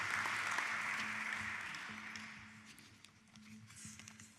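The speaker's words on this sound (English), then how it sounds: "So another round of applause" A county government audience at a State of the County address applauds, a dense wash of clapping that is loud at first and gradually thins and fades over a few seconds.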